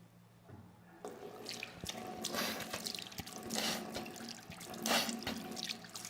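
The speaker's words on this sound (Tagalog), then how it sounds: "ikaw ay maghihilamos ng tubig ng 3 beses" Water runs steadily from a tap during wudu ablution washing, with splashing that swells and fades as hands and face are rinsed, close and alone.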